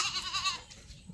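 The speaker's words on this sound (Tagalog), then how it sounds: "Kawawa naman mga kambing natin oh." A goat gives a short, wavering bleat, close by and fairly loud, that fades within a second.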